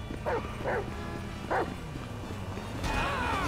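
A dog in Grand Theft Auto V barks three times in quick, uneven succession, moderately close, over a steady low game hum, followed by a brief sharper noise at the end.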